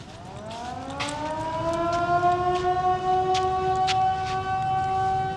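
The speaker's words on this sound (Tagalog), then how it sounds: "Bakit may siren?" A civil defense siren wails in Vigan City, Philippines, rising into a long sustained tone with strong harmonics that stays loud and steady throughout, with faint sharp noises over it.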